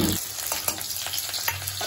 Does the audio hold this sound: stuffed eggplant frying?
yes